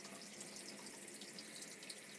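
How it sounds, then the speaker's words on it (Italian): Shower water runs steadily inside a Pössl 2Win R camper van, a soft, even hiss of spray that stays faint and constant with no talking. "c'è un comodo sistema per lasciare l'acqua scorrere senza dover tenere premuto."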